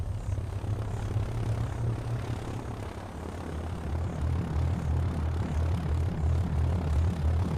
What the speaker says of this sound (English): At first light, the spotter plane sets out again.